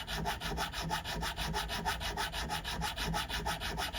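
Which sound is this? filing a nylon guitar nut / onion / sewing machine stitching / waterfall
filing a nylon guitar nut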